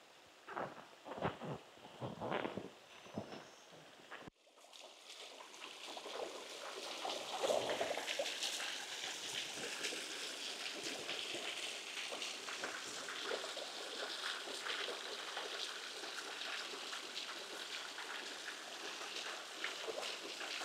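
A tributary creek flowing down into Heifer Creek in a mountain forest: steady broadband rushing water, close and continuous, after a few seconds of quieter sounds at the start.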